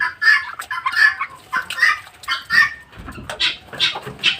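Black Silkie chickens on a flooded farm cluck repeatedly at close range, short bursts of clucking in an uneven rhythm over a quiet background.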